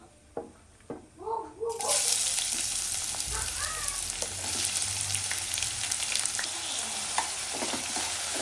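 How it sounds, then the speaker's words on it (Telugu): Medium onions, sliced thin, and green chillies drop into hot oil and set off a loud, steady sizzle that holds for several seconds. A few stirring sounds come through. "సన్నగా కట్ చేసుకున్న మీడియం సైజ్ ఆనియన్స్ ఒక రెండు ఒక రెండు మిర్చి ఇవి కూడా మనం ఎట్లాగా ఆయిల్ కాగింది కాబట్టి దీంట్లో యాడ్ చేసుకున్నాం"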